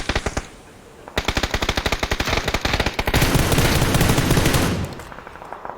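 Rapid automatic gunfire in a wheat-field warehouse battle from a first-person shooter game, loud sustained bursts of rattling shots with dense overlapping fire midway, tapering off at the end.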